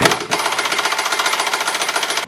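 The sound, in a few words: impact gun removing 21mm shock bolt on BMW E39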